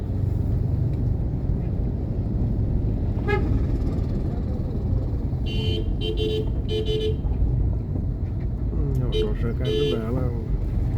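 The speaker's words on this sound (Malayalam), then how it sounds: "ഓട്ടോറിക്ഷക്കാരുടെ ബഹളമാണ്." Auto-rickshaws and other traffic rumble continuously near a metro station in Thirupunithura, with several loud horn toots and honks cutting through the steady engine noise.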